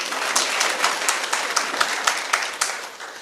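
An audience applauds at a live talk, a steady wash of many hands clapping with individual claps popping out, fairly loud and close, with no voices over it.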